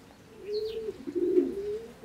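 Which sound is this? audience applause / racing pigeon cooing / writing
racing pigeon cooing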